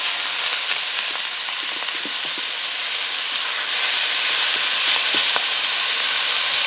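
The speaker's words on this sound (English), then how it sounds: "let me get some avocado oil in there real quick, and we're going to dump our meat in" A pound of ground meat hits hot avocado oil in a pan and sets off a loud, steady hiss with scattered crackles and pops that rise slightly over several seconds. Nobody speaks.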